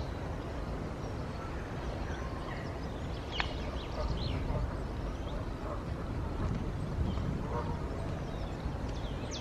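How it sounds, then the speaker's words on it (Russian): Ducks on a pond in Crystal Palace park during breeding season give occasional faint quacks over a broad wash of outdoor ambience. "Тут утки плавают."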